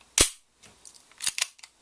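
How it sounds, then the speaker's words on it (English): A Walther P22 semi-automatic .22 pistol cycling its action: a sharp, close metallic snap followed by several lighter clicks and clacks over under two seconds. "the action is considerably different sounding than most of your semi-auto 22. It has a much quieter action."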